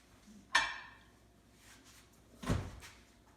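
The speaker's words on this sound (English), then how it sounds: "now what we do, we put this in the microwave for 1 minute" A microwave oven door clicks open sharply after cooking a mug cake, followed by a second knock of the mug or door a couple of seconds later, in a quiet kitchen with no talking.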